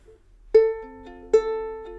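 A ukulele plucks notes for a fingerpicked accompaniment, two clear picked notes that ring and sustain, close and alone.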